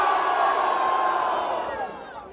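Rap battle crowd at a Brazilian freestyle event roars and cheers for the rapper Maria, a broad sustained wash of voices that fades slightly toward the end.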